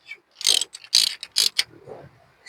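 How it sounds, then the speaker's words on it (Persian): Ratchet wrench clicking in quick bursts while a spark plug is tightened on a Peugeot 206 engine, close and crisp, with three or four clear clicking strokes separated by short pauses. "در نهایت با آچار سفتش میکنیم"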